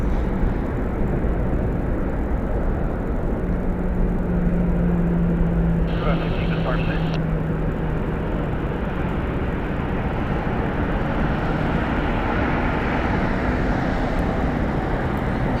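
A fixed-wing aircraft banks left over the Las Vegas Strip, heard as a loud, continuous broadband engine roar that stays steady throughout, with a voice talking over it.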